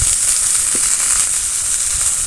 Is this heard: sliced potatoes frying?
yes